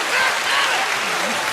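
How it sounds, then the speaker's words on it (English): Audience applause for a chef at a live cooking show, dense and steady throughout with a crowd's broadband clatter and a faint voice underneath. "Give the motherfucking chef a round of applause, please."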